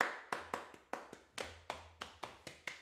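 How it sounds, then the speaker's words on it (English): A series of sharp hand claps, about a dozen in a loose, slightly uneven rhythm, close and fairly quiet, played as simple percussion in a home piano lesson jam, with no voices. "So, little clapping."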